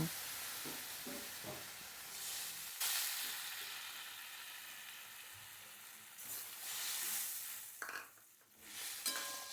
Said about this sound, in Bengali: এখন মশলাটা খুব ভালো করে নাড়াচাড়া করে একটু জল ছড়া দিয়েছিলাম